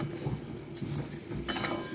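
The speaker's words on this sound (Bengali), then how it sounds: "চিনিটা খুব ভালো করে নেড়ে চেড়ে নিতে হবে।" A utensil scrapes and clinks against a pan while stirring sugar and papaya for a morabba, rhythmic scraping strokes up close with no voices.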